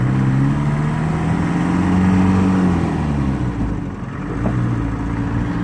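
Engine of a 1980 model car revving loud and close, a steady throaty drone that swells and holds before dipping briefly and settling again.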